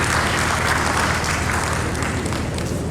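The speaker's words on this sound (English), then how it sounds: "let's give them a round of applause" Conference audience breaks into sustained applause, a dense, loud wash of many hands clapping at once that carries evenly throughout and fades slightly toward the end.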